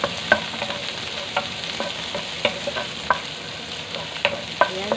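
Onion and tomato sauté in a pan for ginisang monggo with pork and vegetables, a soft steady sizzle broken by repeated stirring clinks and scrapes of a utensil at close range, no one talking.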